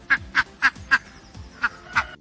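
A duck quacks six times in quick, nasal bursts, loud and close, with a short pause before the last two calls.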